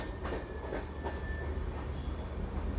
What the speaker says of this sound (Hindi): अभी हम पार कर रहे हैं करंजोल रेलवे स्टेशन को।